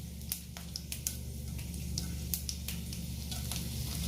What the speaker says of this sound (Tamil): இப்போ கடுகு வெடிச்சோடனே 2 வரமிளகாவை கிள்ளி சேர்த்துக்கலாம்.